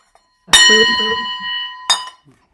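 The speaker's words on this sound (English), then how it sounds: "you want to hear the gong?" A metallic gong is struck at a launch party and rings with a bright sustained tone, then a second strike follows shortly after, loud and close.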